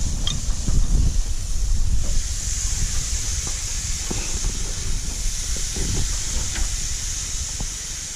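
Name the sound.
steak sizzling on a grill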